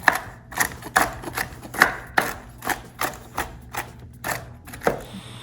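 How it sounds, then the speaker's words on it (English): Pistachios being chopped with a knife for holiday biscotti: a steady series of about a dozen crisp, close knocks of the blade on the board, evenly paced and fairly quiet. "you have to chop them up a little smaller"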